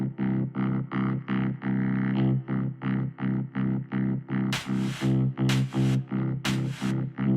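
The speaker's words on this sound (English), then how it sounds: "we've got the reverse reverb on the snare" A repeating drum pattern with a snare whose reversed reverb swells up into each hit, giving a sucking, rising whoosh before the beats.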